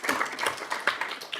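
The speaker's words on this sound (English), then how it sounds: "Mayor Hort always likes to have a clap, so we'll give him a clap" A small group at a City of Gosnells council meeting claps quietly for the deputy mayor, giving a soft, sparse patter of hand claps that lasts just over a second.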